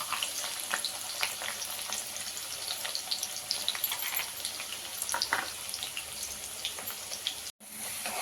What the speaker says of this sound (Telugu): ఇలా ఆనియన్ పచ్చిమిర్చి ఫ్రై చేసుకోవాలండి.